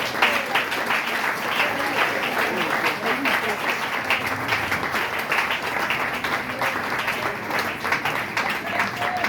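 A church congregation at the closing of an international marathon event in Pointe-Noire claps in sustained, loud applause, dense and continuous, with voices calling out over it.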